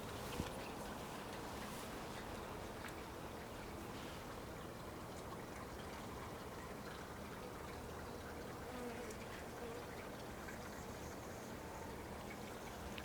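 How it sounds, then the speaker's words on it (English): Soft buzzing of bees working among poppies in a summer cottage garden, a steady low drone under outdoor ambience with no talk. "just a little bee action going on with the poppies"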